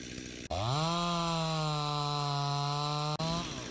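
A chainsaw in the ranch-building video game My Rancher revs up and holds a steady, droning whine while cutting wood, starting and stopping abruptly, loud and close with no talking.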